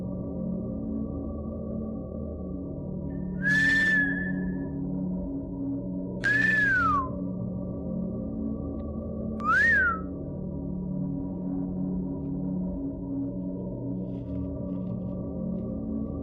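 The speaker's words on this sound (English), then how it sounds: "I'm gonna try a whistle again." Three separate whistle tones, each a short rising-and-falling note, sound a few seconds apart in the wilderness over a steady low background hum.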